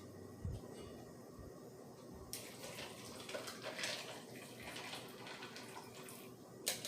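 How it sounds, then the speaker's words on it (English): Cooled coffee poured over ice for a homemade frappe: a quiet, close pour that starts faintly, then swells into a fuller splashing stream partway through, with a few small knocks and clinks. "after you let it cool down, then you wanna pour it in the ice"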